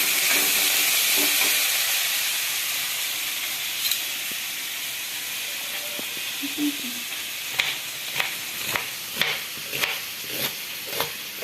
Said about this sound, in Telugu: మధ్య లోపల పెసరట్టుకి ఆనియన్స్ ఫ్రై చేసుకుందామండి.